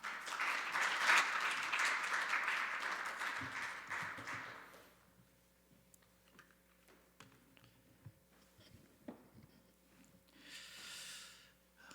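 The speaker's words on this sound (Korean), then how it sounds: "박수로 환영해 주시기 바랍니다" Applause from a church congregation fills the first few seconds, then fades, leaving a quiet room with faint scattered noises.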